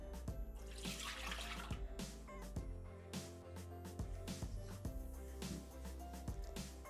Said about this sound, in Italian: Mettere nel boccale il latte,